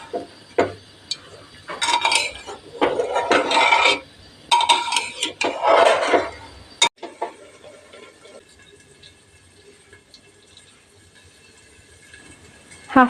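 A spoon scrapes and clatters against a pan as mutton gravy is stirred and reduced over high heat. Bursts of metallic stirring fill the first half, then the sound settles to a quiet simmer with occasional knocks.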